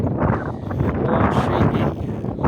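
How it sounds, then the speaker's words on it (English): Strong wind buffeting a microphone on a windy day during roof work, a continuous loud rushing roar with rising and falling gusts and no clear speech. "It's quite windy today"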